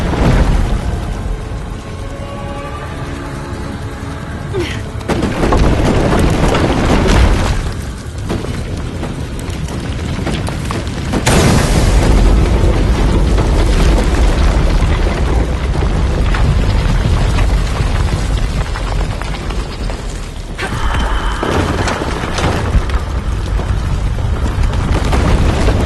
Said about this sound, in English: Explosion would raise the platform.